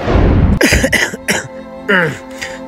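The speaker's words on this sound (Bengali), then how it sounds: "আল্লাহ কাশি জ্বালায় মরে গেলাম" A person suffering from a persistent cough lets out a hard, loud burst of coughing, then speaks in a strained voice.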